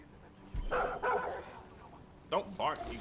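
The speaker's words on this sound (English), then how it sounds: "Don't bark, you dumbass dog." A dog in the video game Far Cry 5 barks a few loud, close barks in two short groups, with someone talking over them.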